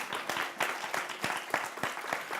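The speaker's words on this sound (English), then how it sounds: "Let's give that a round of applause." Audience applause at a climate action gathering, a dense steady patter of many hands clapping without a break, fairly loud and close, with no one speaking.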